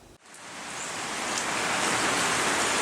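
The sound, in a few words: rain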